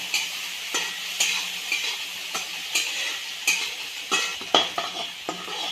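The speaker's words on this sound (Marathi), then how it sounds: "तर छान हे ठेचा हिरव्या मिरचीचा आहे तो फ्राय करून घ्यायचा आहे आपल्याला" Green chilli thecha fries in a pan, stirred with a utensil: rhythmic close scrapes and clinks against the pan every half second or so, with a light steady sizzle underneath.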